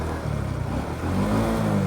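A vehicle engine revs up on a rural road beside green rice paddy fields in the Thai countryside, a steady mid-pitched drone that swells and climbs in pitch partway through, close and fairly loud with no talk.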